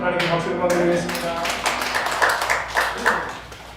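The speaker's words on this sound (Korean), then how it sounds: "하나님께 박수를 드리겠습니다." A church congregation claps during a Sunday worship service, with a burst of applause that begins under the tail of a speaking voice and then fades into scattered claps.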